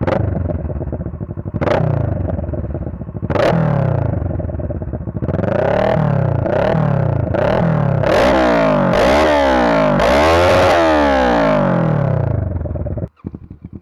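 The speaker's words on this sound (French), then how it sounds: "Avec le pot à cras déchicané, pas de catalyseur, rien." Motorcycle with a de-baffled exhaust and no catalytic converter, revving loudly in sharp repeated blips that build into a rapid string of high revs before cutting off abruptly.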